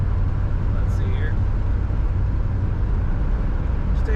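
A 1956 Chevrolet 210 four-door hardtop cruising down the road, giving a steady, even rumble of engine and tyre noise that holds without a break.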